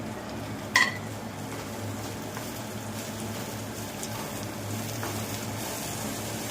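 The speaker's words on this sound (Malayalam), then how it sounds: "ഇതൊന്ന് വാടുന്നവരെ ഇളക്കി കൊടുക്കാം." Mint, coriander and curry leaves are stirred in a pan over steady low sizzling frying, with one sharp utensil clink near the start and soft scraping throughout, no talking.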